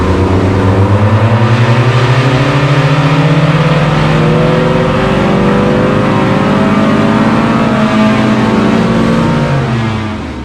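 A Spec Miata race car engine revs through a loud, continuous dyno pull after an engine refresh and tune, with rising harmonic tones sweeping upward and then easing off near the end, and no talking.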